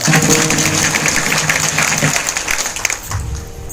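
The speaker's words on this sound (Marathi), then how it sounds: "त्यांच्या नावाने एकदा टाळ्या वाजवा." An audience at a religious discourse claps for a mahatma, a loud close burst of applause that thins out toward the end, with a little voice mixed in.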